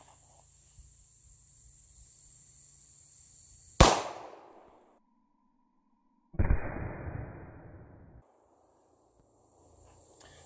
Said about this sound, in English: All right, one more shot with the 40.